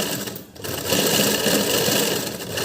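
A sewing machine runs steadily and loudly while stitching a blouse lining, with one brief slowdown near the start before the motor keeps whirring without a break.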